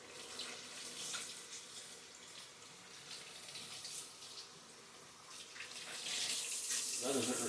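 Hot water runs steadily from a kitchen tap, a continuous broad splashing hiss that swells louder near the end as the flow strikes the sink.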